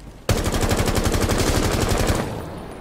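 Weapon firing in the video game Rainbow Six Siege, a loud sustained automatic burst of rapid, evenly spaced shots lasting about two seconds, then cutting off into a fading tail.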